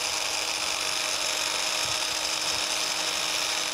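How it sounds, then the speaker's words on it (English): Power scraper working the metal ways of a New Haven planer in a shop, a steady high-pitched buzzing whine that holds constant throughout with faint low knocks beneath, no talk. "we'll just start scraping."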